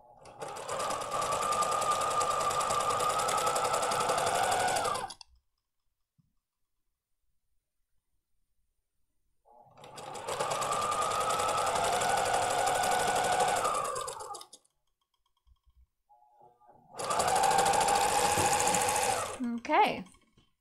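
A serger stitching a seam on knit fabric for a pencil skirt runs in three steady bursts of a few seconds each, loud and close, separated by silence.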